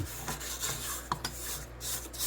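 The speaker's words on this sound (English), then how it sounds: "3 or 4 minutes in, we're going to scrape the side of our bowl." A utensil scrapes the side of a mixing bowl of bourbon pecan pound cake batter with soft rubbing strokes and a few light knocks, close and fairly quiet, with no talking.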